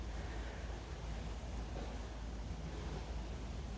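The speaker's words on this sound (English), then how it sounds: "The sound of water is lovely." Water rushing outdoors in a wild spot, a steady broadband wash like surf or a stream, fairly faint, with some wind buffeting and no talking.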